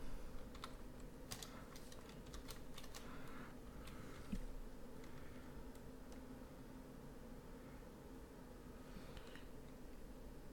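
Steady typing on a computer keyboard, a quick run of light clicky key taps at close range over faint room hiss, with no talking.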